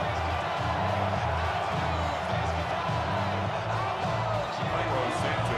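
Stadium crowd noise at Soldier Field in the Madden 26 football video game, a dense steady roar of fans cheering throughout under a commentator's voice.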